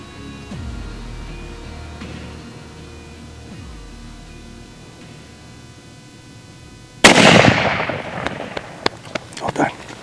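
A single loud rifle shot fired at a charging elephant on safari in Zimbabwe cracks suddenly after quiet outdoor ambience, followed by a few fainter pops and rustles.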